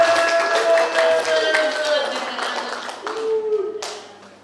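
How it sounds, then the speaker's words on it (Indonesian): An audience applauds for Pak Irawan at a KPU Kabupaten Wonogiri work-culture launch event, a steady patter of clapping in a hall under a presenter's voice, thinning out toward the end. "Ya, aplaus lagi buat Pak Irawan."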